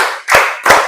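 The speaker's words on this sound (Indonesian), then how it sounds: "Tepuk 1, tepuk 2, tepuk 3, tepuk 4" Two sharp, close hand claps about a third of a second apart, each a crisp slap in a steady counted beat, at a classroom ice-breaking clapping game.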